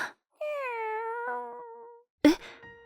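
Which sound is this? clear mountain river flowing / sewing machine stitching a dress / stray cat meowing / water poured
stray cat meowing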